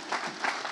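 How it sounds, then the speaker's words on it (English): Brief burst of audience applause at an ecommerce agency summit in Valencia, dense crowd clapping heard alone and fairly loud throughout. "Big round of applause there again."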